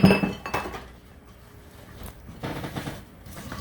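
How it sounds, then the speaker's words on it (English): Chopped pecans being stirred into a thick pie bar filling in a bowl, giving a close clink and scrape of the spoon on the bowl at the start, then softer stirring noises that pick up again toward the end, with no talk. "I have 2½ cups of chopped pecans. I'm just going to stir those in."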